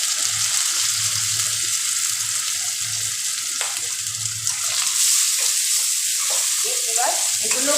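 Chopped tomato frying with ginger-garlic paste in a pan in a home kitchen, giving a steady close sizzle that runs unbroken throughout with soft stirring scrapes and faint low thumps, no talk.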